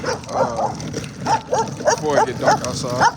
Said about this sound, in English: And excuse the dog too.